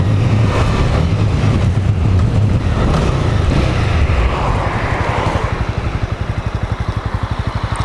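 A 2018 Honda CB300R motorcycle engine running steadily during a ride, loud and close with wind rush, then settling into a pulsing idle-like throb as the bike slows to turn around.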